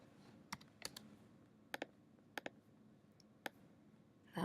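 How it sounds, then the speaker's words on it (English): Someone types an equation on a computer keyboard while graphing: scattered, irregular key clicks, some in quick pairs, over a quiet room, with a soft rustle at the end. "So I'm going to type in the equation."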